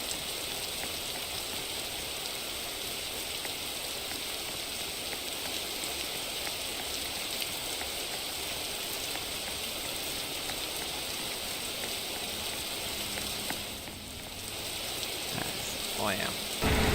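Rain falls at the Mumbai race circuit in a racing video game, a steady, even hiss of downpour that runs for the whole stretch, dipping briefly before picking up again near the end.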